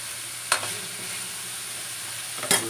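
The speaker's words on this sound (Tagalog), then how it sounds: "nagisa tayo ng sibuyas, bawang, kamatis" Onion, garlic and tomato sauté in a pan with a steady, close sizzle throughout, broken twice by brief scraping stirs from a utensil, and no talking.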